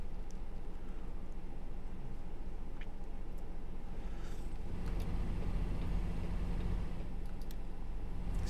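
A truck engine in American Truck Simulator drones steadily while cruising at 65 mph on the limiter, a thin, tinny hum with road noise, continuous and even throughout.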